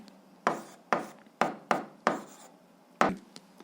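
Six separate scratchy strokes of a pen or pencil writing an answer by hand on paper, close and fairly quiet, each burst sharp at its onset and fading, with short pauses between them.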